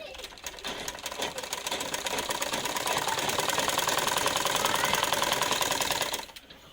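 A sewing machine stitches a pajama waistband, clattering in a fast, even rhythm for about six seconds before stopping abruptly. It is close but fairly soft.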